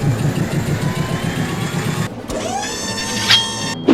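An engine turns over, dips briefly, then settles into a steady mid-pitched idle with a rising whine, heard up close and alone.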